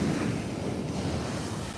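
Rough sea surf pounds Muaro Bayang beach in bad weather, a continuous loud roar of breaking waves mixed with strong wind buffeting the microphone, with no talking.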